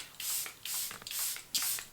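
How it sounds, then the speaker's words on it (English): Charlotte Tilbury airbrush setting spray hisses out in four close, loud bursts with short gaps between them. "I'm setting everything in place with my airbrush setting spray from Charlotte Tilbury."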